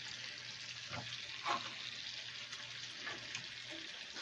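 Shrimp cooking in a cast iron skillet, a soft, even sizzle and hiss continuing at low level throughout, with a couple of faint knocks and no talking.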